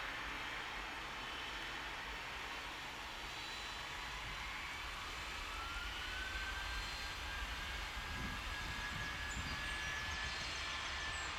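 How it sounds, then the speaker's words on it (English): A Frontier airliner rolls for takeoff on runway 27 in a Tower! Simulator 3 session, a constant broad jet roar with a faint rising whine, steady and moderately distant, with no talking over it. "Frontier flight 2548, runway 27, cleared for takeoff."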